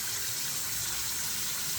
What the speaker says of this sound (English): We have our sink filling up with water.